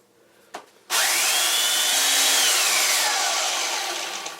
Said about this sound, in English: because I only need to take a little bit off it here, and my gosh, it's hard to hold something like this with the power planer, the sander is just the ticket.